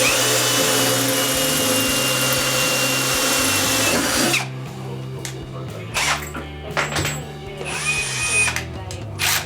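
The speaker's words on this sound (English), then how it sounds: "And now you see me drilling through for the burner." A power drill bores through scrap metal housing for a gas forge burner, running loud and steady for about four seconds and then stopping, followed by quieter clattering and handling noises.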